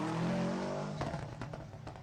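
Rally car number 73 on a Toyota Harlech forest stage, its engine note rising then cutting in with sharp bursts and crackles as it passes close and loud in the open air.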